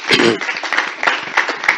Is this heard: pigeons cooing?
no